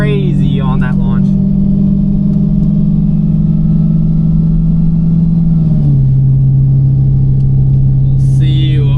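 Modified Dodge Hellcat at a drag strip, heard as a loud, steady engine drone that holds one pitch and then drops slightly as the throttle eases off, with a voice talking briefly at the start and end.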